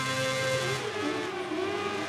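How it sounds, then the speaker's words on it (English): Engines rev loudly and continuously on the starting grid of the MotoGP 18 video game, a dense mechanical roar from a pack of motorcycles waiting for the lights, with no voices over it. "So here's Barrow revving up from pole."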